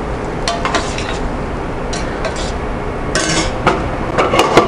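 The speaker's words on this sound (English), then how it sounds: "I'm just going to swirl this in and finish that ragu with a little bit of fresh butter" Fresh butter is swirled into a ragu in a hot pan, with a steady soft sizzle under scattered clinks and scrapes of a utensil against the pan, and someone talks briefly.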